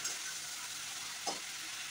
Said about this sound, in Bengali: আমি মাছগুলো একটু ভালো করে ভেজে নিলাম।